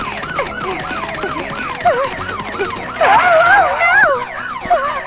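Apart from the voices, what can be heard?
cartoon police car siren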